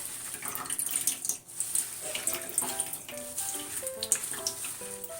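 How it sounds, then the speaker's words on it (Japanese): Water dripping and splashing as washed shiso leaves are squeezed out by hand for pickled plum making, a close trickle with irregular drips and small splashes, no talking. "これちょっと水絞らなくっちゃ。"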